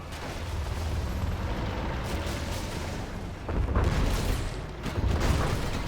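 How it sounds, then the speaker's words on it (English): Explosions and artillery blasts in the real-time strategy game Command & Conquer Generals Zero Hour, a dense, loud battle roar with several heavier booms bursting through near the end. "ECM going to go down though to the explosion there."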